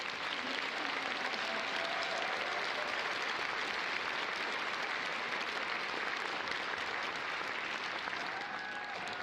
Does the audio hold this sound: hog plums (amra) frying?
no